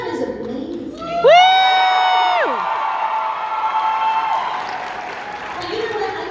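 Cheering and applause from a fan convention crowd at a Charmed panel fill the air, loud and sustained, with whoops and shouts rising over a bright tonal sweep, then settling into a steady roar.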